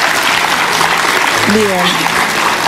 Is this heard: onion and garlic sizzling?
no